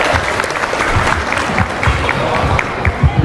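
Loud, sustained clapping from an audience at an elementary school Black History program, a dense continuous patter of many hands with faint crowd noise under it.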